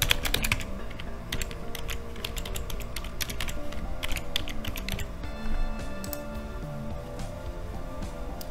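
Steady keyboard typing on a computer keyboard while a username and password are entered to log into a SANGFOR Next Generation Firewall, with quick irregular key clicks continuing throughout at a close, moderate level and no talk.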